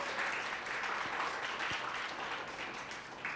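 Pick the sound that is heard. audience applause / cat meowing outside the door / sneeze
audience applause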